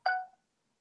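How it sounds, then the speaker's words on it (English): A phone ringtone sounds as one short, bright electronic tone burst of about a quarter second, close and fairly loud, then cuts off into silence. "That ringtone is awesome."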